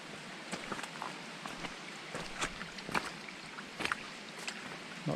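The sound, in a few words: creek water flowing over trail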